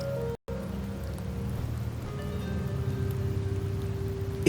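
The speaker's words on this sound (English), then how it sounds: "The rains in Septimont never seem eager to leave this season." Steady rain falls in the video game Wuthering Waves, a constant soft wash of patter with a faint low tone beneath, briefly cut off near the start, with no voices.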